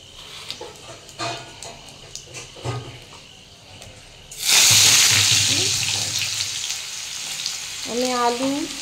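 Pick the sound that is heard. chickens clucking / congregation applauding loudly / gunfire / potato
potato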